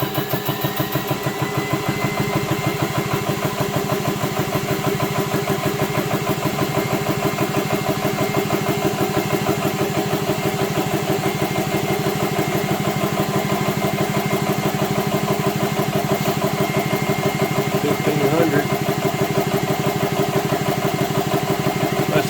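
An engine-driven high-pressure pump building toward 3,500 psi against a closed valve, a continuous loud mechanical drone that runs steadily and unchanging throughout, close by and without talk.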